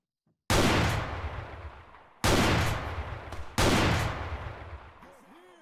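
Three loud, close gunshot bursts from stun rounds in the video game ArmA 3, each a sharp broadband blast decaying over about a second, separated by brief gaps, with a faint voice-like tone at the end.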